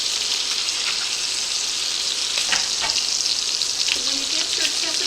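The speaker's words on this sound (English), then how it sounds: "keep spooning that delicious garlic all over the steak with the rosemary and add your butter to it." A ribeye steak sizzles and fries in a pan while garlic, rosemary and butter are spooned over it, a constant bright crackle with a few soft clinks and scrapes partway through.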